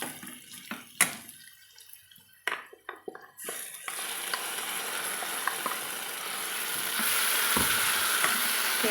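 Vegetable kola balls with masala fry in a pan, beginning with a few sharp stirring knocks and clatters, then building into a steady, loud sizzle that grows hissier toward the end. No speech is heard.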